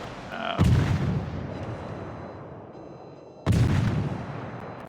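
Warship gunfire in a naval battle video game: two heavy booming salvos a few seconds apart, each with a long rumbling decay, loud and close.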